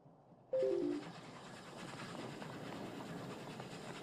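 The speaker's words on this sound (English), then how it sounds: "There is a train coming there, and that's not our train. There it is. It's the liquid fertilizer train." A liquid fertilizer train arrives in the Oddsparks video game: a sudden loud onset with a brief descending whistle-like tone, then a steady rumbling, clattering rolling sound that continues without talk.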